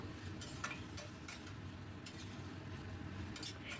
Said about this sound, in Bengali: খুব ভালো করে নাড়াবো।